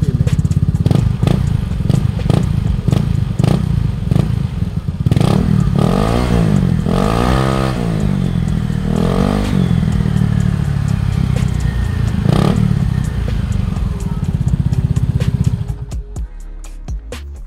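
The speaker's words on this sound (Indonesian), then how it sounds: "seperti itu guys suara dari knalpot racing merek Daeng ini" A loud Daeng aftermarket racing exhaust on a motorcycle idles roughly with popping, then revs up sharply several times in rising sweeps before cutting off at the end.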